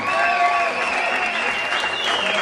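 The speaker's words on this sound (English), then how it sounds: "How about a round of applause for our ball girl," An audience at the Improv comedy club claps for a ball girl, a dense, steady round of applause that holds at full strength without letting up.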